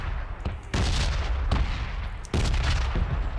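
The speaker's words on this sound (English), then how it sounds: "There they are, there's the bombs." Bombs explode during the red zone bombardment in the video game PUBG. Several heavy, booming blasts land close together, each with a long rumbling tail.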